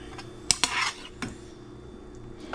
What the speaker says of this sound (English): I take my shrimp and I cut them up